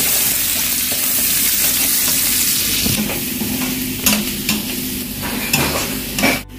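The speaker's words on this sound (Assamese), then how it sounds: "এতিয়া পিঁয়াজ ৰঙা হোৱালৈকে আমি ফ্ৰাই কৰি ল'ম" Onions frying in a pan for restaurant-style chicken fried rice give a steady, loud sizzle throughout, with occasional sharper clinks and scrapes of stirring near the end.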